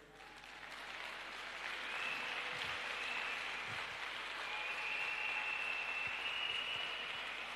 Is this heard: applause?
yes